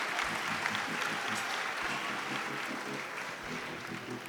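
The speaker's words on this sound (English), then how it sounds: "Can we have a huge round of applause for Steffi Patel" Audience at a teen pageant grand finale applauding, a steady wash of clapping from a crowd that holds evenly for several seconds, with no talking over it.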